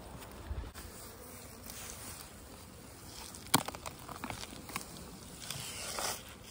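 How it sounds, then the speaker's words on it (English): Dense buzzing of honeybees fills the air steadily, like a swarm close by, with a few brief sharper clicks partway through. "Dripping with bees."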